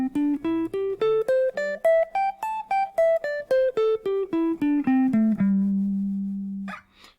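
A guitar plays the fifth pattern (G form) of the minor pentatonic scale, single plucked notes stepping steadily up then back down, ending on a sustained low note that rings out alone.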